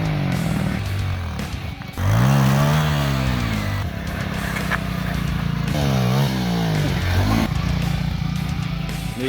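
A motorcycle engine, just derestricted for stunt riding, is revved hard up to the rev limiter, rising in loud sweeping surges up close with a rough buzzing tone throughout.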